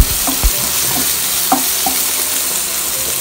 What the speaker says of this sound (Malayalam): നെക്സ്റ്റ് ഒരു തണ്ട് കറിവേപ്പില ഇട്ട് കൊടുക്കാം, എന്നിട്ട് അത് നന്നായിട്ട് വഴറ്റാം